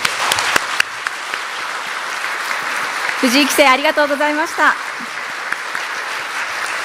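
Sustained audience applause at a Japanese shogi title inauguration ceremony honoring the Kisei title holder, with a host speaking briefly over the clapping midway before the steady applause continues.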